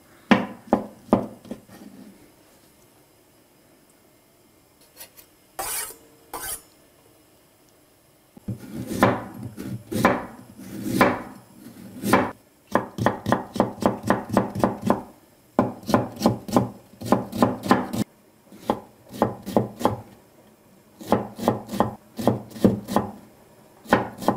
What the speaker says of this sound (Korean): 이거 좀 다질 건데 너무 곱게 다질 필요는 없어요.